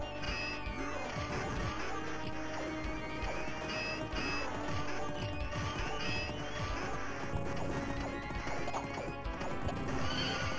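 A horse neighs and whinnies in the 1991 arcade game Knights of the Round, over busy game music and effects, with clip-clopping hooves and crashing hits mixed in throughout.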